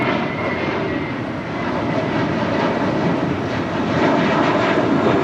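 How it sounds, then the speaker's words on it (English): An American Airlines Airbus A321 jet in flagship livery departs Los Angeles International Airport, its engines roaring in a broad, steady rumble that swells slightly toward the end, with no voices. "That was American Airlines flight 2833 heading to Dallas, Fort Worth, Texas in that flagship Valor livery in that A321."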